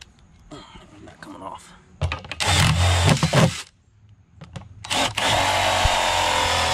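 A power drill whirs in two loud bursts, drilling holes in an underwater fish structure to be filled with concrete, the second burst running steadily to the end, with brief clattering and a voice in between.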